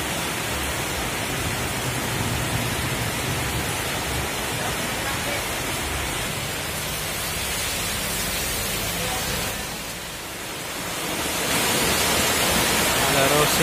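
Heavy rain pours steadily during a holiday-season trip, a dense continuous hiss that stays loud throughout, dipping briefly before swelling again.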